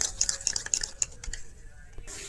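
A spoon stirs a milk and food colouring mixture for taal (palm fruit) bread, giving quick, close clinks and scrapes against a bowl in a brisk, irregular rhythm that fades in the last part, with no talking.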